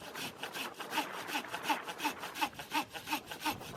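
Hand saw with a finer blade cutting through a 2-inch branch, giving a steady rasping back-and-forth with about three strokes per second, close and moderately quiet, no voices.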